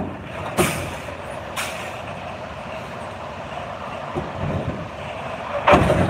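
Air brakes on a truck hissing as it couples to a trailer: sharp bursts of released air at the start, middle and end, over a low idling engine rumble outdoors.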